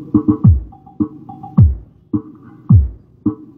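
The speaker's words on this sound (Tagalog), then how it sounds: "Yan yung tunog ng ating sub mga boss." Deep bass thumps pulse from a subwoofer in a steady repeating pattern, each hit booming low and loud, with brief higher tones between them.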